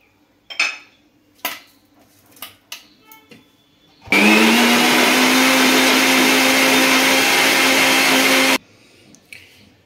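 A kitchen blender whirs loudly and steadily for about four seconds, blending orange juice with ice cubes, black salt, sugar and chaat masala, framed by clinks of spoons and dishes before and after.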